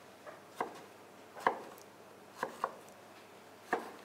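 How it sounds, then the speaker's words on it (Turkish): A knife chops tomatoes into cubes on a board for tas kebabi, with sparse separate knocks, some doubled, fairly quiet and close with no talk. "Yine domatesimi patates ve soğanla orantılı bir şekilde küp şeklinde doğruyorum."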